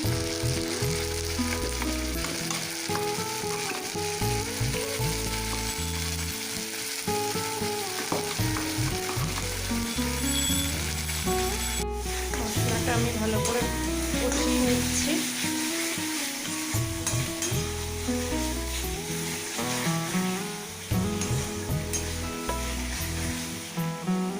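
A paste of ginger, cumin, onion, garlic and tomato frying in hot oil, a steady loud sizzle with stirring, with music playing throughout and no talking.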